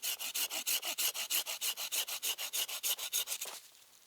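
A wooden stake being sawn off by hand in the woods, about twenty steady back-and-forth strokes in an even rhythm, loud and close, ending abruptly near the end with no talking.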